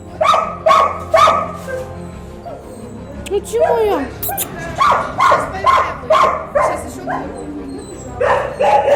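Yakut dogs bark and yip in short, repeated bursts close by, with some whimpering, while people talk over them.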